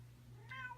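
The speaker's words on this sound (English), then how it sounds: "Tank maintenance kitties" A cat gives a single short, faint meow that rises and falls, heard alone over a low steady hum in a room where fish tanks are being maintained.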